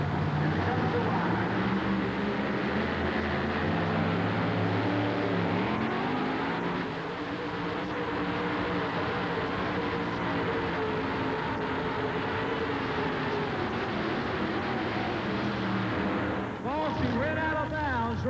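A 1941 Willys pulling vehicle in a 1988 two-wheel-drive truck pull roars loudly and continuously as it strains down the track, its engine pitch shifting, while an announcer talks over the noise.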